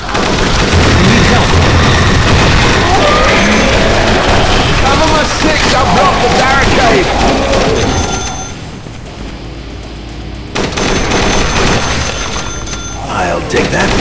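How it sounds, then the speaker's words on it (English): A mounted machine gun in Dead Trigger 2 firing in loud sustained bursts amid explosions and game noise, voices over it, then a quieter pause before shooting resumes. "Mount that machine gun!"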